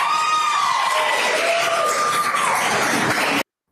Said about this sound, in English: Can you imagine clapping in court when a murder defendant comes up in?